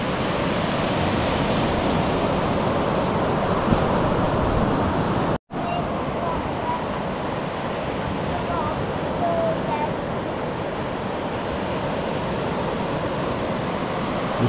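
Waves break along the Filey Bay beach as the tide comes in, a loud broad wash of surf that roars steadily, broken by one abrupt cut partway through, under wind rumble.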